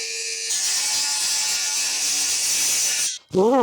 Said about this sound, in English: if I cut this piece of plywood to the right size, I can stick it in the front here